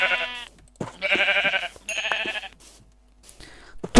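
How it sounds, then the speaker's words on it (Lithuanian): Sheep in the Minecraft video game bleat several times in close succession, each call loud and wavering, with short pauses between and a faint voice in the background. "Turim avys!"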